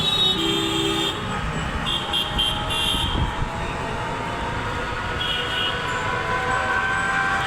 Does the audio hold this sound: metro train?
yes